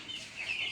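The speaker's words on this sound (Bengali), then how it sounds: "উনি রুম ভাড়া দিয়া এই মুরগি পালন করেন" Chicken clucking softly in a rented room where hens and pigeons are kept, a brief murmur of low calls against steady background noise, with no voices.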